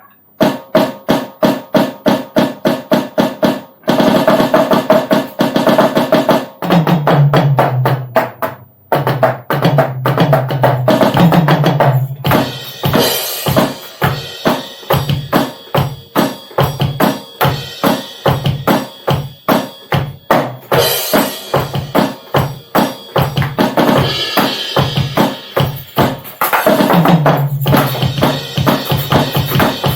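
An electronic drum kit's module plays rapid hits continuously, kicks, snares and cymbal crashes in busy rhythmic patterns, loud and close with no voices.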